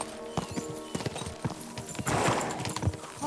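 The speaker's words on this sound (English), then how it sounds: "We should spur the horses on." Horses clip-clop at a brisk pace in the medieval video game Kingdom Come Deliverance 2, with steady hoofbeats close by and a neigh rising near the end over a busy background.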